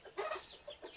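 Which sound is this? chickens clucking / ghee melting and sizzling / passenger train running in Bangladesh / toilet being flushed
chickens clucking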